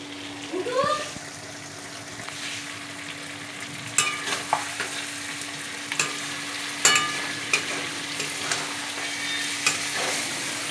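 Chicken kosha stirred and fried in a pan, with a steady low sizzle and scattered scraping stirs and clinks that recur every second or so; a brief voice speaks near the start.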